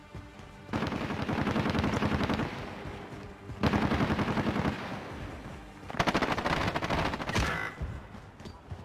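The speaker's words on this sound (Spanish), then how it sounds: "Le escucho los disparos con el silenciador." Long bursts of rapid, muffled suppressed gunfire from the video game Warzone rattle in three sustained stretches with short pauses between, fairly loud and continuous.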